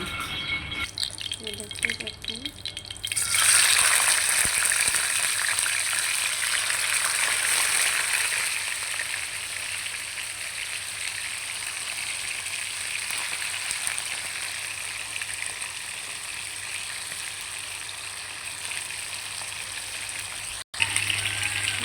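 Chicken browning in a pan for a restaurant-style chicken bhuna gives a continuous loud sizzle up close that runs steadily for about twenty seconds, after a short stretch of kitchen handling at the start.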